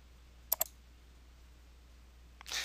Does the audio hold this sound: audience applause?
no